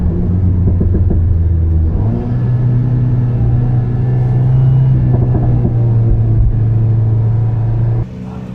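A stock Alpine A110 sports car on a timed lap, its engine droning loudly and steadily with rising revs and a deep exhaust rumble, close and continuous, easing off near the end.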